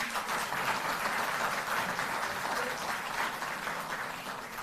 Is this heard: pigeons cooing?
no